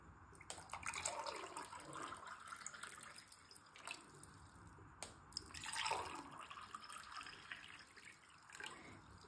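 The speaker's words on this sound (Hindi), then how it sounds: "पानी एबे फुल करि दउछि।" Water poured into two glass tumblers, a continuous splashing trickle with bright liquid filling sounds rising and falling, close and fairly loud, with no talk.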